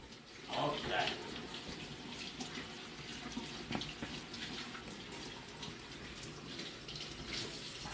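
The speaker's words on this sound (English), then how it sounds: "let me wash my hand." Tap water runs steadily into a kitchen sink while hands are washed during cod fish piccata cooking, a close continuous splashing rush with a brief stronger gush near the start.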